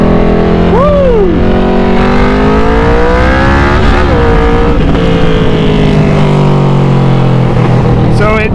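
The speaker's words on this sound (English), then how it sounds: "This bike definitely pulls really well." A Yamaha Vmax cruiser motorcycle accelerating hard, its engine note rising and shifting through gears, loud and close with constant wind roar, ending in a brief revving rise.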